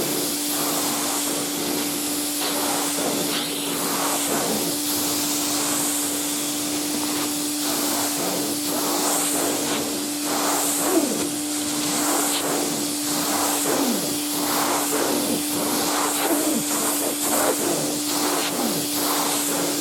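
A 1970 Hoover Constellation 867A vacuum cleaner with its upholstery nozzle gives a steady, close droning whine with a constant hum, while the nozzle makes rhythmic sucking and scraping strokes against upholstery or stairs.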